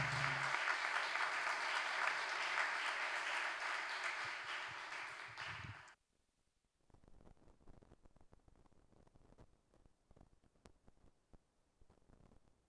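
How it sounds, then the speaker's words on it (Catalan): Applause from a congress audience fills the first six seconds as a dense, steady wash of clapping, then stops abruptly, leaving faint scattered rustles and clicks in a quiet room. "un aplaudiment, fins aviat"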